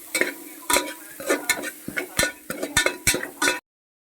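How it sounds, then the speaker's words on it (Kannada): Legumes and onion are tempered in a hot pan: a close sizzle runs under repeated sharp clinks and scrapes of a stirring spoon against the pan, then the sound cuts off abruptly. "ಈಗ ಮೊದಲು ಕಾಳು ಒಗ್ಗರಣೆ ಹಾಕ್ಬೇಕು."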